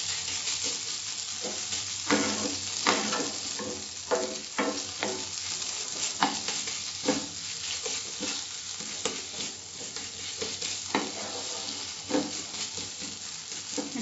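Masala for an Andhra-style boiled egg fry is stir-fried in a pan, with a steady sizzle broken by repeated scraping strokes of a spatula close by.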